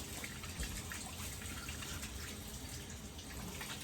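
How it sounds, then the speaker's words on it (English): Tap water runs steadily into a sink as a child washes soapy hands beneath it, a continuous close splashing gush with no talk over it. "you should always wash your hands before you eat and cook."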